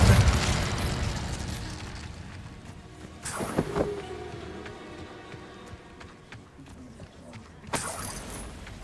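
A fire spell is cast in Hogwarts Legacy, giving sharp bursting whooshes with crackling flare-ups, one near the start, another midway and a last near the end, over a low ambient bed.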